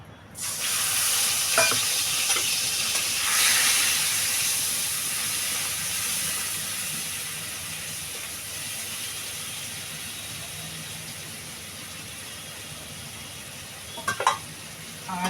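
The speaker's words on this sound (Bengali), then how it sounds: "আমার তেলটা গরম হয়ে গেছে আমি এবার এই ইলিশ মাছের তেলটা ঢেলে দেবো" Hot hilsa fish oil poured into a hot pan bursts into a loud, bright hissing sizzle that holds steady and slowly softens over many seconds, with a few utensil clinks near the end.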